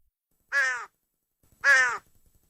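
Two loud, harsh crow caws, each about a third of a second, separated by a pause of nearly a second, close and clear against silence.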